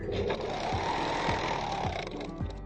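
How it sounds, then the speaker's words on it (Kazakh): An overlock sewing machine stitches a seam on a hoodie, its motor running at a steady fast whir with regular periodic thumps as the fabric is fed through, loud and close throughout. "Машинкамен оверлокпен қазір бір тігісті ғана ала отыра айналдырып тігіп шығамыз"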